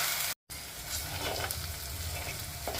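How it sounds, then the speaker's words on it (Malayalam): Crushed spices and tomato sizzle steadily in hot oil in a pan, a close, continuous frying hiss with a few stirring scrapes and a brief gap near the start. "ഇപ്പോൾ നമ്മൾ ചതച്ച് വെച്ച സാധനങ്ങളെല്ലാം എണ്ണയിൽ നന്നായിട്ട് വഴഞ്ഞിട്ടുണ്ട്"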